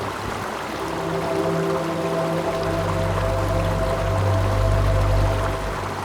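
Clear river water at a forest campsite in Pos Tuel, Gua Musang, Kelantan pours and rushes in a steady, loud, continuous flow, close by, growing slightly fuller toward the end.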